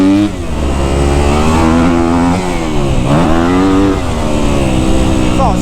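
A Kawasaki KX250F four-stroke dirt bike engine revs loud and close while riding, its pitch sagging and rising through a throttle roll-off, with a voice talking over it.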